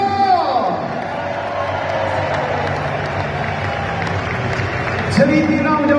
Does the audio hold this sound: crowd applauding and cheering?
yes